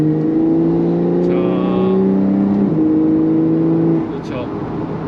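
Porsche 911 Targa 4 of the 992 generation accelerating hard, its engine note climbing steadily then dropping with a quick upshift near the end, heard from inside the cabin with a person talking over it.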